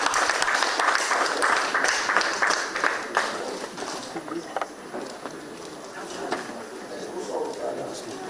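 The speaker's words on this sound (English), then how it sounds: "If we are clapping, we can do better." Applause from a large audience at a formal welcome for a state governor and president, dense clapping that swells early and then fades to a thinner patter.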